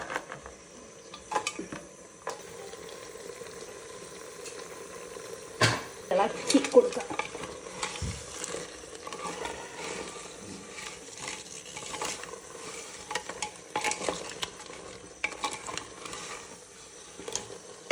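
A spoon stirs and scrapes crab curry in a pan, with intermittent clinks and soft scraping at low volume and occasional louder knocks against the pan.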